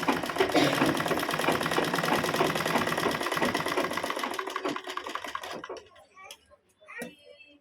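Sewing machine stitching a plain blouse rattles in a fast, even run of close mechanical ticks for about five seconds, then slows to a few scattered taps and stops.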